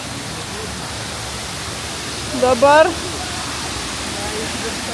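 Steady broadband roar of the Salto do Cabrito waterfall in the Azores, heard up close and filling the whole clip, with a brief spoken word rising over the rushing water near the middle.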